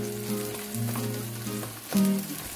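Butter sizzles and crackles in a hot pan with pan-fried seabass, a steady close frying hiss with faint tonal hum underneath and a brief louder swell near the end. There is no speech.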